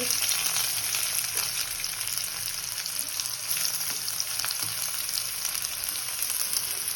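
Ginger, garlic and chopped onion fry in a pan with a dense, even sizzle that holds steady throughout, close up, with faint occasional stirring ticks.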